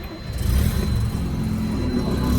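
A 1985 Mazda RX-7 GSL with a five-speed manual, its engine rumbling loud and close as it catches and rises, steady and alone.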